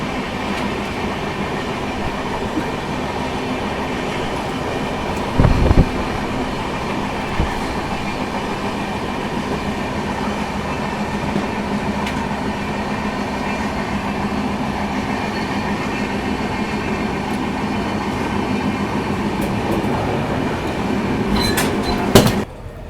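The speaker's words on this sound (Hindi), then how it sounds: "ट्रेन चलती अपनी जालंधर सिटी से" The Amritsar New Tinsukiya Express (15934) rolls out of Jalandhar City station, heard from on board as a continuous rumble of wheels and carriage noise with a couple of sharp clanks, and squeals near the end.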